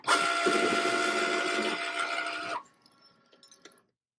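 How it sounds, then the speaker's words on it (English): A Cricut machine starts up to print on a black T-shirt, giving a loud steady mechanical whir that stops abruptly, followed by a few faint clicks and small movements. "just hit that knob on the Cricut, and that's telling it I'm ready to print"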